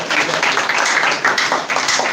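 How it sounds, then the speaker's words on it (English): Audience at a student defense clapping for a student: dense, steady applause from many hands, loud and close, filling the room without pause. "Let me just clap for her."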